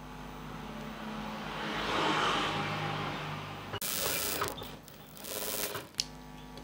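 A sewing machine stitching a chudi pant in a tailoring setting runs in a soft, steady whirring burst, then gives sharper, louder rattling stitches in the second half, fairly quiet overall with no talk.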